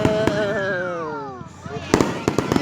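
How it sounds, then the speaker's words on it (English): Fireworks go off outdoors: a whistling rocket glides downward, then several sharp bangs and crackles follow, loud and close, while a person exclaims over them. "We have got fireworks going."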